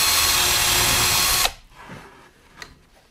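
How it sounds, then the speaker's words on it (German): A hinge drill bit driven by a power drill into wood, a loud steady whirring grind for about a second and a half, then stopping abruptly, followed by faint handling clicks. "Dann nehme ich den Scharnierbohrer, setze ihn an und bohre einen Ticken rein."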